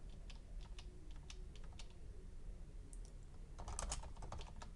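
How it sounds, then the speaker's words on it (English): Computer keyboard keys tapped during a software install, a handful of light clicks scattered over several seconds, with a denser burst near the end, faint and close, with no talking. "We can accept these options by clicking Enter."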